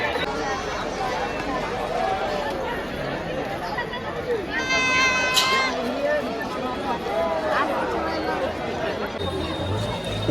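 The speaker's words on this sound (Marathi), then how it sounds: "खूपच गर्दी आता." A dense crowd of pilgrims fills Omkareshwar Jyotirlinga temple with constant overlapping chatter and hubbub, loud and steady throughout, many voices blending with a brief ringing tone near the middle.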